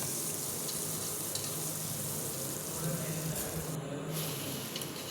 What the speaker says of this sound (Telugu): ఇది కూడా హై ఫ్లేమ్లోనే పెట్టి ఫ్రై చేస్తున్నాను.